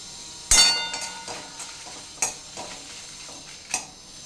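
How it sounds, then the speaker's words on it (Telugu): Dried red chillies fry in a little oil over a low flame, giving faint sizzling with sharp clinks and scrapes of a spoon stirring against the pan at irregular intervals. "ఎండు మిర్చి వేసేసుకున్నానండి కొద్దిగా ఆయిల్ కూడా వేస్తాను ఫ్రై చేద్దాం ఇప్పుడు ఇవి లో ఫ్లేమ్లోనే ఫ్రై అవ్వాలి"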